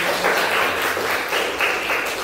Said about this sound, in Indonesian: kita beri tepuk tangan untuk Bapak